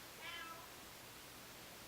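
A cat meows once, a short faint call rising out of a steady hiss of background noise, then quiet follows.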